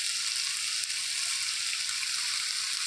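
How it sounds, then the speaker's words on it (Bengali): Okra fries in oil in a covered pan with no water added, for a rural Bengali okra dish: a steady, close, bright sizzling hiss that runs evenly throughout with no talk. "যে তেলটা দিয়েছি ওইটা দিয়েই ভেন্ডিগুলো সেদ্ধ এবং ভাজা দুটোই একসঙ্গে হয়ে যাবে"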